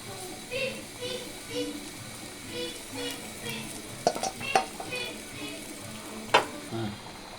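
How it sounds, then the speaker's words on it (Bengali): Pieces of rohu fish go into a vegetable curry with eggplant frying in a pot, a low sizzle with a few sharp utensil clanks, while a voice talks over it. "এখন আমি মাছটা দিয়ে দিব"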